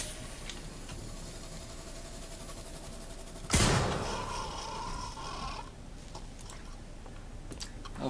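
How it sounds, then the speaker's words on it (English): A single sharp gunshot cracks out in the video game Alien Isolation, loud and sudden, its echo tailing off over quiet ambient game sound. "I did just make a loud gunshot noise"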